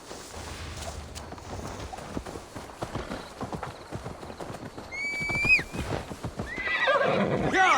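Horse hooves clip-clop steadily on the ground in Assassin's Creed Valhalla as a horse is led along. Midway a loud, shrill whinny rises and falls, followed by snorting and more hoofbeats.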